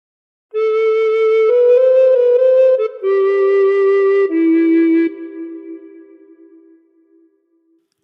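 A recorder plays a short melodic phrase from the Battle Hymn of the Republic, clear sustained notes stepping in pitch with a brief break midway, alone in a quiet room, the last note fading out.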